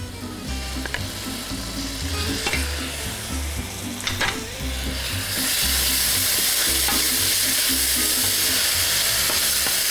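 Homemade ginger and garlic paste with turmeric sizzles in oil with onions for a bunny chow curry, a constant close frying hiss that swells louder halfway through, with occasional spoon scrapes and clicks.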